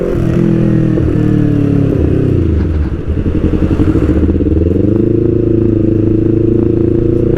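A Kawasaki Ninja 250 FI motorcycle on a test ride in Indonesia, its engine droning loud and steady throughout, dipping briefly before revving back up with a rough, pulsing clatter.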